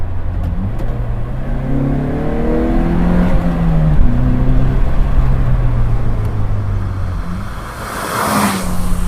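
A Vauxhall VX220 sports car with a 2.2 litre engine accelerating hard, engine note climbing through rising revs with gear changes, loud and close, ending in a burst of rushing noise.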